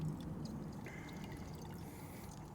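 Water runs steadily from a reverse osmosis filter tap into a glass, a continuous soft trickle and pour heard up close with no talk.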